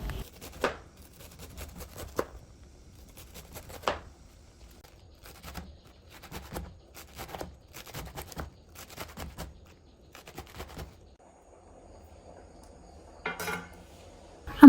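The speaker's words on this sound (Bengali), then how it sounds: "ওগুলো আমি ফেলে দিয়ে ঝুড়ি ঝুড়ি করে কেটে নিচ্ছি" A knife chops radish greens (mula shak) in short bursts of crisp cuts separated by quiet pauses, close and fairly soft, with a few light clattering touches near the end.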